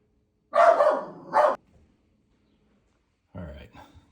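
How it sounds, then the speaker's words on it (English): A dog barks at someone walking past, with two loud close barks, a pause, then another rough bark or yelp. "having your dog go crazy on somebody walking past"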